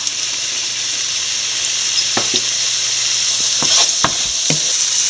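Asafoetida fries in hot oil while a lemon curry is being made, giving a loud, continuous sizzle close up with a few sharp pops and spoon clicks scattered through it.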